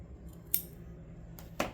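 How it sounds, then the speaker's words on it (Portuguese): Scissors snip crochet yarn for a bag twice, two crisp metallic cuts about a second apart against a quiet room. "Agora, eu vou cortar esse fio."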